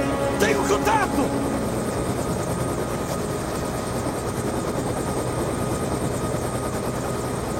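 A helicopter in the Call of Duty video game, a steady close rotor drone with a chopping thrum, as a brief voice and a short electronic chirp sound near the start.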